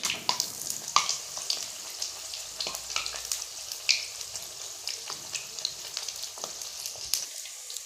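Leftover rotis deep frying in hot oil give a steady, close crackling sizzle, broken by sharp pops and spatters throughout, with faint clinks near the end and no voices.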